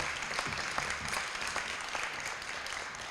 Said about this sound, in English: Give yourselves a rousing round of applause.